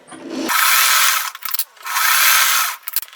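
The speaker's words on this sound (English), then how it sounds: "I'm going to sew on each edge." A sewing machine stitches along the edge of a scrappy quilt crumb block in two loud, close, steady whirring runs, each about a second long, separated by a brief pause with small clicks.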